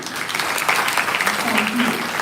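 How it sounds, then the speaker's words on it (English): An audience at a school inter-house quiz competition claps steadily throughout, a dense, even, loud wash of applause with a faint voice underneath. "So please clap for everyone."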